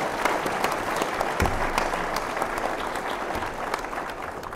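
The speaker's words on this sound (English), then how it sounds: "you can applaud that if you wish" An audience at a legal lecture event applauds, a moderate, continuous patter of many hands clapping with a few louder claps standing out, fading slightly toward the end.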